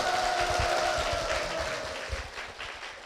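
A church congregation at Wolsan Church claps to welcome an elder; the applause is brief and moderately loud, then fades out over a few seconds.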